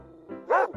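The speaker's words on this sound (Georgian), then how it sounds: "ღამით ძაღლს ხმაურ შემოესმა და ყეფა ატეხა" A single dog lets out one short, close bark at night, a quick yip-like woof lasting under a second.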